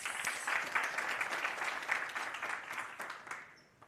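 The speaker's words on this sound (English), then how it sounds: "Another round of applause" Audience applause in a conference hall closing a media briefing presentation, a steady wash of many hands clapping at moderate level that slowly thins and fades toward the end.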